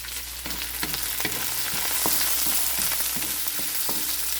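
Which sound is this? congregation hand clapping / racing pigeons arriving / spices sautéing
spices sautéing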